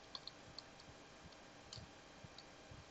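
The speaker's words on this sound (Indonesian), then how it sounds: "Tekan spasi untuk menambahkan spasi setelah kata atau di antara teks" The space bar on a computer keyboard is pressed in faint, scattered clicks against a quiet background hiss, with no voices.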